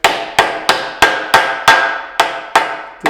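A hammer taps a part of a portable multiple-roll tape dispenser into a snug fit, striking about nine times in a steady rhythm, each hit sharp, loud and close.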